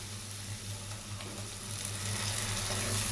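Tomato paste goes into a hot frying pan with garlic that has been frying, giving a steady sizzle that swells slightly louder toward the end, with no talking.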